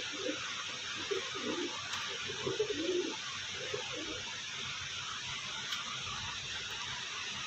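Pigeons, a mix of different breeds, softly coo in short low bursts near the start, fading in and out over a steady background hiss.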